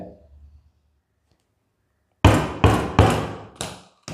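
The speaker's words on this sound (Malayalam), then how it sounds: "ഈ അടയാളപ്പെടുത്തിയ ഭാഗത്ത് ഉളി ഉപയോഗിച്ച് ഇവിടെ" A hammer strikes a chisel cutting holes in a file board, giving five sharp, close knocks in quick succession after a couple of seconds of near silence, with a faint voice briefly at the start.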